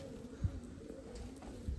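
Soft low coos from an 8–10 year old blue-patterned pigeon, two brief muffled calls rising from a quiet, faint background.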